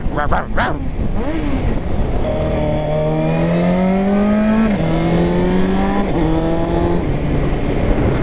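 A loud engine revs repeatedly, its pitch climbing and dropping in stepped surges over a constant rumble, close by.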